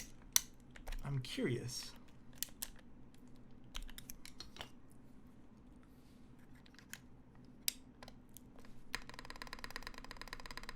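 Keystrokes on a mechanical keyboard fitted with a GMK spacebar, a Percent Studio Skog-Reboot prototype, tap in scattered crisp clicks close by, with a brief quiet remark and a denser run of typing at the end.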